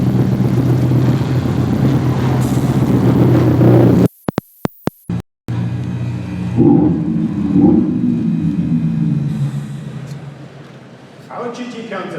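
A Mercedes-AMG GT concept four-door coupe engine rumbles and revs at an auto show debut in New York, a loud low growl broken by brief cutouts, with voices murmuring.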